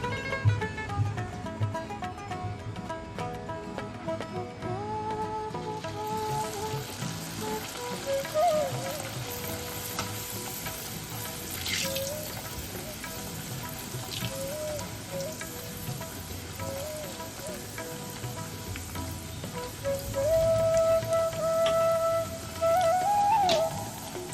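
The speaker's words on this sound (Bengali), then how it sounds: "এইভাবে সমস্ত রাধা বল্লবীগুলোকে আমরা ভেজে নেব" Radhaballavi puffed bread deep-frying in hot oil, a steady close sizzle with crackling like heavy rain that holds on without a break and swells louder near the end.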